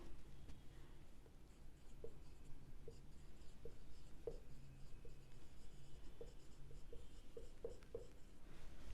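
Pen writing on paper while working a Class 11 simple cash book accounting problem, a steady faint scratching with small taps, no talking.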